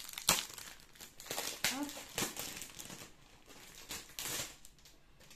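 Crinkling and crumpling of plastic packaging as cross-stitch organizers and rulers are unwrapped, with bursts of rustling and tearing throughout, close by, while someone speaks briefly over it.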